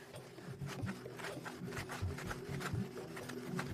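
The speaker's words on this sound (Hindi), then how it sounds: "अब मैं फायर सॉ को इसके साथ रगड़ रहा हूं" A wooden fire saw is rubbed steadily against a braced wooden base to raise an ember, a continuous close rasping scrape with rhythmic strokes and no talk.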